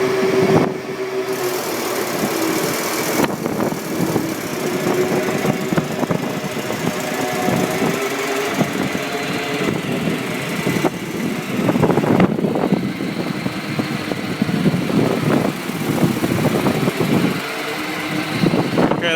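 A 2004 AVGAS fuel truck, a 1,000-gallon unit, runs its pump in a steady, loud mechanical drone with engine rumble and fan-like whir and a few shifts in tone, heard close up with no talk.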